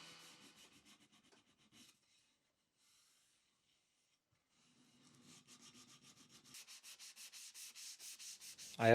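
Wooden bookshelf piece sanded by hand, steady rhythmic rasping strokes that fade to near silence in the middle, then return and grow louder and faster toward the end, close-up with no talk.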